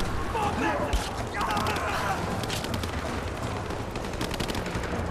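Gunfire in Rise of the Tomb Raider during a final boss fight in an icy setting, dense automatic bursts and scattered shots running continuously at moderate distance, with someone talking over them.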